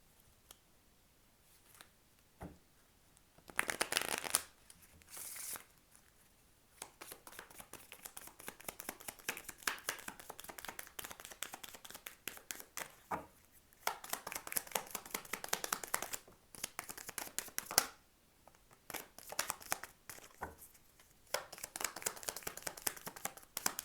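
Oracle cards from a Russian Fairy Oracle deck are shuffled by hand in repeated bursts of quick riffling and slapping, close and fairly quiet, separated by brief pauses with no speech.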